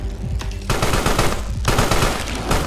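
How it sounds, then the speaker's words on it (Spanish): Rapid automatic gunfire rattles loudly and close in the creature horror game Carrion, firing in two sustained bursts with a short gap between them. "O me ha disparado, que también puede ser."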